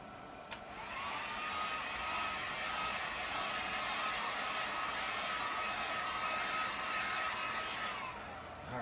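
A dryer blows a steady, loud, continuous whoosh to quick-dry a DTF print before the heat press, starting abruptly and holding an even pitch for several seconds.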